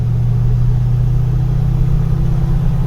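A Chevrolet K20 Suburban with a swapped 5.3 V8 and SM465 gearbox accelerates in third gear around 40 mph, heard from inside as a loud, steady low engine drone and road rumble with no talking.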